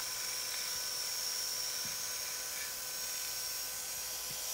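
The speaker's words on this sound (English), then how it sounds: "So I'm sanding off, make it nice and smooth." Walnut live edge bowl being sanded on a wood lathe, a continuous high whirring hiss that stays steady and loud throughout, with no voices.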